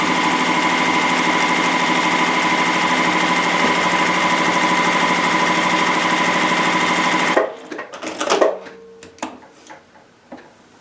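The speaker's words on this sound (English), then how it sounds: "I'm going to sew straight down that line" A sewing machine runs steadily for about seven seconds, stitching fabric straight along a paper-piecing line, then stops, followed by light handling clicks and fabric rustles.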